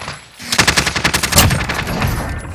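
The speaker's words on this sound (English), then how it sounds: "Under fire! Taking fire!" Rapid automatic gunfire in the Call of Duty Warzone video game, a loud, close burst of rattling shots lasting a couple of seconds, with no talk.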